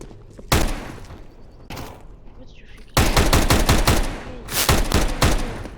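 Tec-9 gunfire in CS:GO: a couple of single sharp shots, then a rapid string of loud, punchy pistol shots in quick succession, close and dominant.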